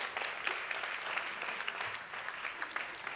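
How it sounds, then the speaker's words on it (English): A round of applause from a conference audience at an education policy event, continuous brisk clapping at a moderate level, close and steady throughout without speech. "you want to give a round of applause to it?"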